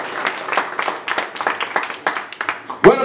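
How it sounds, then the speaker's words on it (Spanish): Audience applause and clapping at a mariachi birthday performance, with irregular hand claps in a moderate, scattered rhythm that ends with a louder burst. "Ese aplauso bien bonito que se escuche"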